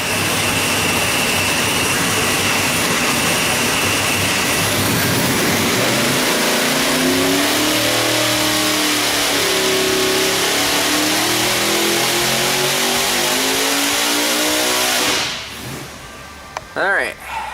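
A 2500+ HP Vortech Top Sportsman engine revs hard through a pull with a gear change, a loud continuous roar whose pitch sweeps upward and then cuts off abruptly near the end.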